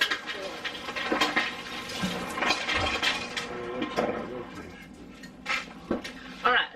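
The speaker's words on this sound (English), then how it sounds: "I gotta wash my hands." Hands are washed under running water at a kitchen sink, with splashing, hissing flow and intermittent clinks of dishes nearby, and brief talk over the moderately loud rushing water.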